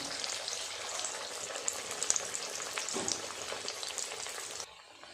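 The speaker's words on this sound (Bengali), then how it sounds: "বাকি কচুরিগুলো আমি ভেজে নেব।" Green pea kachoris frying in hot oil give a dense, steady, close sizzle and crackle with small pops, continuing for several seconds before dropping away near the end.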